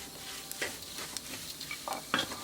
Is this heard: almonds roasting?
yes